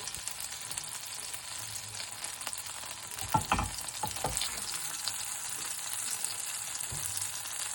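Bacon fries in unsalted butter in a pan, giving a steady close sizzle with brief louder crackles and a few stirring scrapes near the middle.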